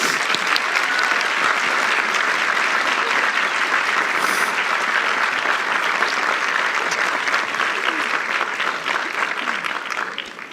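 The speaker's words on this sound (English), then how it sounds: "Graduates, I invite you to recognize all of them with a round of applause" Graduates at the Colby-Sawyer College 2019 commencement give a sustained round of applause, a full, even wash of many hands clapping that continues steadily for about ten seconds before beginning to thin out at the end.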